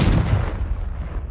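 The Confringo explosive spell in Hogwarts Legacy lands as a single loud, close blast with a sharp boom that decays quickly into a short rumbling tail.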